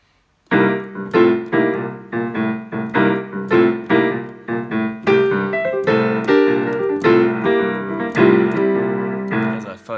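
A blues piano lick built on downward chord arpeggios, played solo at a lively pace in rolling, cascading phrases of struck notes and chords, loud and close with no talking.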